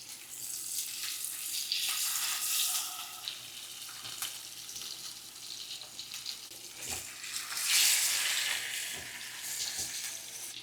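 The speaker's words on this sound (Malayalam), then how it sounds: "ആദ്യം നമുക്ക് മീൻ വറുത്തെടുക്കാം." Fish frying in hot oil gives a broad, steady sizzle that swells and fades with a few soft clicks, close and fairly quiet, with no voices.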